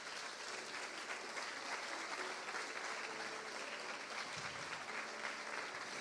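Church congregation at a missions service applauding steadily, a dense, even wash of many hands clapping at once that holds at a moderate distance with no break.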